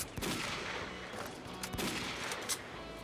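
Rapid bursts of gunfire in the video game STALKER: Call of Pripyat, with sharp repeated shots and a few louder cracks over a continuous combat din, close and loud.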